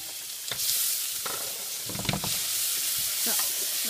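Garlic fries in a few tablespoons of hot vegetable oil for an okra stew, producing a bright, continuous sizzle at close range, broken by several short clattering stirs.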